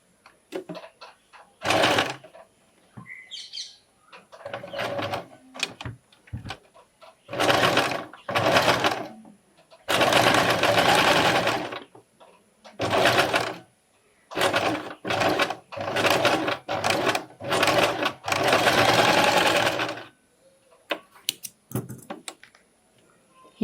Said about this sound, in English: So here from the machine you can adjust the stitch into the zigzag.